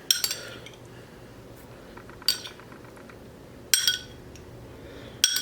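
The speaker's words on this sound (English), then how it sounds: "Then we're going to spoon on our enchilada sauce." A metal spoon clinks sharply against a dish four times at even intervals while enchilada sauce is spooned over enchiladas, the clinks close and bright above a quiet background.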